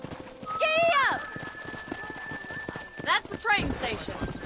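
Horse hooves clip-clopping at a steady rhythm in the video game Red Dead Redemption, moderately loud and running under a man's speech and a brief whinny.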